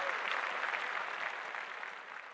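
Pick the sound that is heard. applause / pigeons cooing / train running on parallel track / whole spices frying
applause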